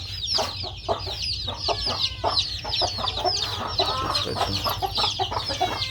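A mother hen clucks steadily among her chicks on a farm, with soft repeated clucks under a constant high chorus of peeping chicks, close and moderately quiet with no talk.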